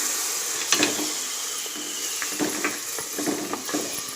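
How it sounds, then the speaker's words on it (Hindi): Tomato gravy poured into a pan holding green masala for a Konkani mutton curry, sizzling and crackling steadily up close, with scattered stirring clinks and spatters throughout and no talking. "ये टमाटर की ग्रेवी डाल रही हूँ।"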